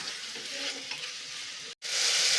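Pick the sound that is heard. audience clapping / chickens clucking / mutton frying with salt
mutton frying with salt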